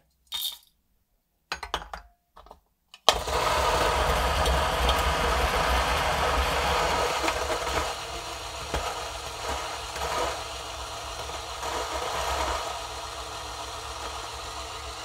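A Niche Zero coffee grinder set to grind 13 runs steadily and fairly loud for about twelve seconds, a dense whirring hum after a few brief clicks and bumps, with no talking.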